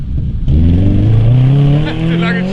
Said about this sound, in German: Jetzt hoffen wir, dass das Auto gleich wieder angeht.